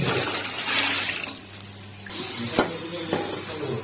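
Tap water runs steadily into a sink as taro is rinsed, a continuous close splashing that thins out midway before returning, with a few soft knocks of handling.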